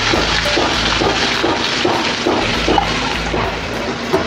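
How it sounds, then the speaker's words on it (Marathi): Finely chopped onion lands in a pan of frying garlic with a pinch of asafoetida, setting off a loud, steady sizzle with crackling bursts that carries on throughout, close up and without speech. "आपला लसूण चांगला चांगला परतून झाला की आपण हे टाकूया बारीक शिरलेला आपला कांदा"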